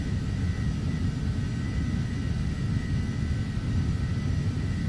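Steady aircraft engine drone in Flight Simulator X with the throttle set at 80 percent, a loud continuous low rumble with a faint whine that holds level throughout, with no talk over it.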